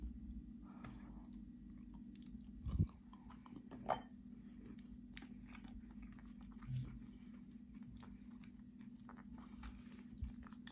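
Soft, slow chewing of edible chalk clay up close, with a few sharper bites and clicks over a low steady hum, crumbly rather than crunchy, no talk.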